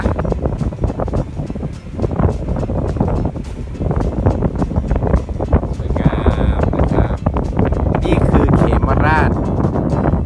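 Wind gusts along the Mekong River in Khemarat district, Ubon Ratchathani, making a loud, buffeting rumble against the microphone while people talk.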